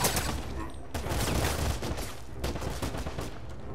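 Rapid bursts of gunfire rattle out in a Wolfenstein video game, loud rolling volleys broken by short gaps, dense and close like automatic weapons fire.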